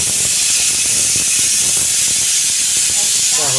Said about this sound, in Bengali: এই যে রান্না হয়ে গেছে, সিটিতে দিয়েছি, আর মাংস কষে প্রেসার করে দিয়েছি